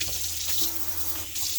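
Water runs from a chef-style kitchen sink faucet in a steady, close hiss and splash, with a brief dip near the end and no voices.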